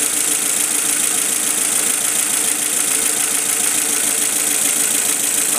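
Car engine misfiring and running rough at idle, heard up close: a loud, unbroken, gritty mechanical drone with uneven knocking running through it.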